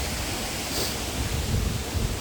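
Rushing water at the top of a waterfall in Macquarie Pass National Park forms a loud, steady broadband roar, close by and unbroken, with no voices over it.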